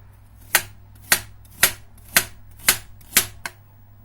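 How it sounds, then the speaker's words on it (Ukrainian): Half a pear is finely chopped with a knife on a board, seven crisp evenly spaced cuts close up with a faint hum behind them. "Тепер обов'язково додаємо половинку груші. Ми її дрібно наріжемо."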